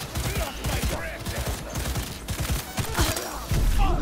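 Rapid bursts of enemy gunfire in Cyberpunk 2077, dense fusillades of sharp shots crackling close by in uneven clusters, with a louder volley near the end.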